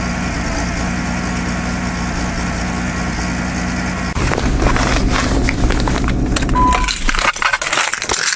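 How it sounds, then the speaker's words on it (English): A car engine idling roughly with a misfire right after a cold start at minus 28, a steady low rumble that grows louder and busier midway, with clicks and knocks near the end. "She got a little bit of a misfire this morning."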